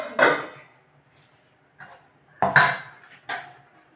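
A metal lid goes onto a pot of simmering fish-head curry, giving a few sharp clanks and rattles spaced over several seconds, close and fairly loud, with quiet gaps between.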